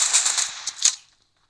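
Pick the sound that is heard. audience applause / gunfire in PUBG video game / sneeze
gunfire in PUBG video game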